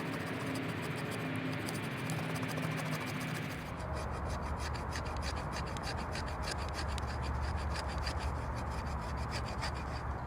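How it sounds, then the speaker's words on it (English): A knife spine scrapes pitchwood into shavings, making a dense, continuous rasping scrape with a rough, gritty texture that shifts in tone partway through, close and steady throughout. "I'm going to take a piece of pitchwood, I'm going to use the spine and scrape it off"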